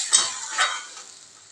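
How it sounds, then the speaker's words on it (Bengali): Water poured into a pan of simmering bata fish curry with potato and drumstick stems hisses and sizzles in two quick bursts, then fades to a soft, fizzing simmer. "এবারে পরিমাণ মতো জল দিই, ঝোলটা দিয়ে দিচ্ছি।"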